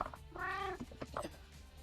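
A cat sitting on a lap gives one clear, drawn-out meow of nearly half a second, close and quiet, followed by a few soft chirpy sounds.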